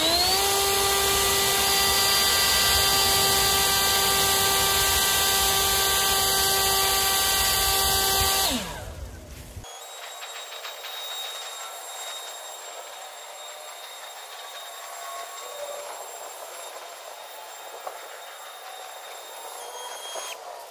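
A Greenworks Pro 80V backpack leaf blower runs on turbo with a loud, steady high-pitched whine and rushing air. After about eight seconds it drops sharply to a quieter, lower running level that continues to the end.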